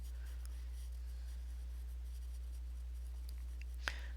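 Derwent pastel stroking lightly over paper along the edges of a drawing, a soft, faint scratchy rubbing continuing steadily with a small click near the end.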